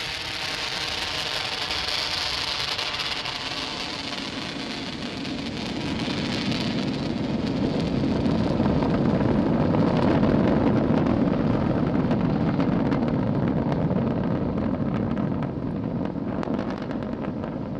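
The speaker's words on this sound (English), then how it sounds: "successful liftoff of the Falcon 9 from Launch Complex 39A" A Falcon 9 lifting off from Launch Complex 39A at Kennedy, its Merlin 1D engines climbing in a broad, steady crackling roar that swells and stays loud, heard from a distance with no voices.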